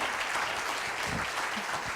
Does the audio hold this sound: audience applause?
yes